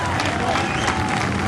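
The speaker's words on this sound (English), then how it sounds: "Give Dapper Dan a nice round of applause." Grandstand crowd at a sportsman car race applauding winner Danny Ains, a dense, steady wash of clapping and crowd noise with voices mixed in, continuous throughout.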